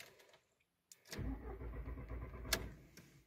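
Volkswagen Jetta engine cranking without catching: after a faint start and a short pause, a loud sustained starter churn runs about two seconds up close, with a sharp click partway through, no talking.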